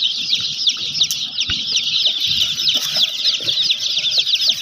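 Many chickens at a poultry seller's, clucking and chattering continuously as a dense, fairly close flock, with occasional wing flaps and rustling.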